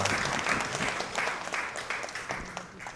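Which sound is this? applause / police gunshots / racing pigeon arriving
applause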